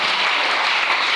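A church congregation applauding the Lord during a sermon: dense, even clapping that fills the space continuously and loudly, with no voice above it.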